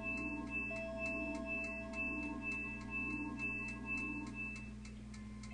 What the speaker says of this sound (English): The sounds are built purely from combinations of sinusoidal waveforms.